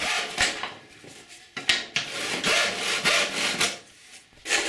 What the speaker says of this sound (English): And also cut off most material on this support.